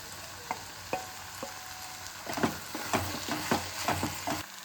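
Bitter gourd pieces tipped into a frying pan with tomato masala for a kakarakaya curry, giving a steady sizzle with repeated stirring scrapes and clacks, close and fairly quiet, no voices.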